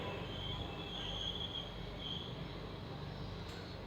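Koyna Express passenger train with ICF coaches departing Jejuri station, a steady low rumble of rolling coaches with a faint high squeal of wheels, heard from on board.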